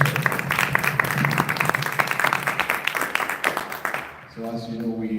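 A crowd claps steadily for several seconds, a dense patter of many hands, then the applause fades out as a tone or chime begins near the end.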